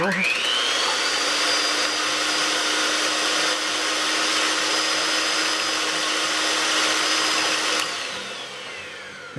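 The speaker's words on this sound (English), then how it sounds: "I like to use a mixer because the better you mix it, the fluffier the eggs." Electric mixer beating eggs for breakfast tacos, a loud steady motor whine that starts up sharply, holds close and even, then winds down near the end, with a voice speaking over it.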